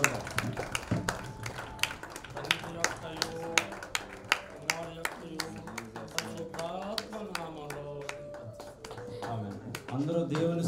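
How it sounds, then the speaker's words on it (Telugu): Church congregation clapping hands together in rhythm, a steady run of sharp claps heard throughout, with singing or voices carrying over them in the hall. "అందరూ చప్పట్లు కొట్టండి, అందరూ చప్పట్లు కొట్టండి, అందరూ చప్పట్లు కొడదాం."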